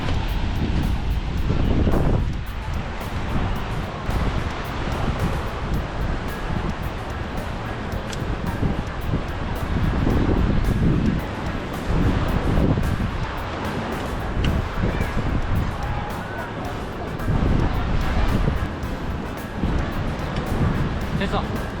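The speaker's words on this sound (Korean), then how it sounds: "정말 파도 엄청 크죠?" Big surf crashes and washes in repeated surges on a beach at El Palo, southern Spain, under strong wind buffeting the microphone, with people talking over the roar.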